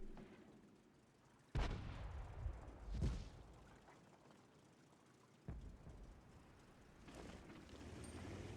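Gunfire in the shooter T92, a couple of sharp reports followed by a louder blast, then another shot and a rising rumble, fairly faint overall with no talk.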